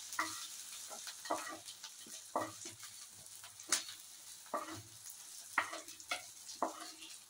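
Chopped fenugreek leaves fry in a pan with a soft, continuous sizzle, broken by repeated scraping stirs from a spatula, close and moderately quiet.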